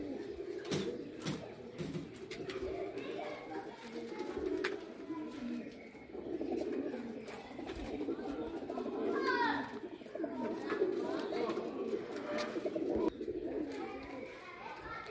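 Rare pigeons cooing in a loft, soft repeated low coos over a busy background with people talking and children's voices nearby, continuing throughout at moderate volume.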